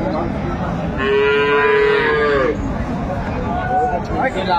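At Aftabganj cattle market in Dinajpur, a bovine lets out one clear, rising moo of about a second and a half, close and loud, with crowd murmur and voices around it.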